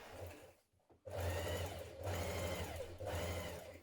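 A home sewing machine stitches around an elastic casing hem at the bottom of a summer dress sleeve, running in close, steady mechanical bursts broken by a brief pause near the start and a slight dip later.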